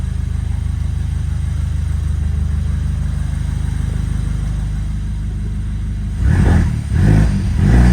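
A freshly rebuilt BMW N20 four-cylinder from a 328i idles loudly in a garage with its sound insulation foam off, then gives two sharp revs near the end.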